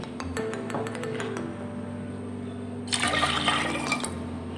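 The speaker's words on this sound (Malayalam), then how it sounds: "അതിൻ്റെ അളവായിട്ട് 2 കപ്പ് വെള്ളം ഒഴിച്ചു കൊടുക്കാം" Water is poured into a pot of split green gram and lentils for an Onam payasam, a steady close pouring that swells into a louder rushing splash near the end, with a faint clink of vessels early on.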